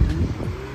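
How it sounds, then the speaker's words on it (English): A car's exhaust gives a brief, close low pop over a steady engine rumble, in a single short burst. "I don't know if you guys heard that, but the exhaust kind of popped."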